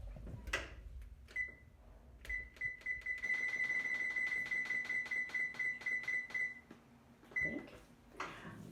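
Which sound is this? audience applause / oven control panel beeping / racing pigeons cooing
oven control panel beeping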